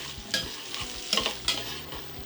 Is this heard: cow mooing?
no